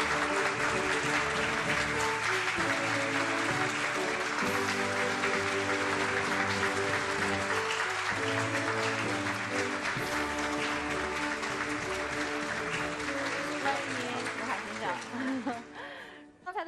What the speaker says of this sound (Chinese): 掌声有请本期总裁读书会主讲嘉宾吴海